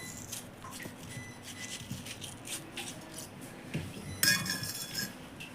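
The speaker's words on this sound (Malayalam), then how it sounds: "നമ്മളിനി കട്ട് ചെയ്ത് പാത്രത്തിലേക്ക് ഇടാം കേട്ടോ" Kitchen prep for a Ramadan iftar special: food being cut and dropped into a bowl, with light clinks and knocks of utensils against dishes over a low room rumble and a louder clatter near the end.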